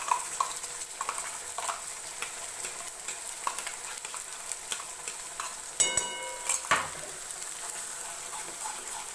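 Spice masala tipped into an already hot kadhai fries with a steady close sizzle, stirred with a spoon that scrapes and clinks against the pan, with a brief burst of sharper clatter near the middle; no one speaks.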